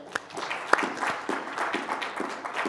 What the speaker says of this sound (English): I want everyone to give a round of applause to our fantastic panel.